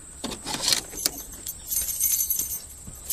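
Keys jangle a few times against the steering wheel of a car, giving short, bright metallic clinks in irregular bursts at close range with no one talking.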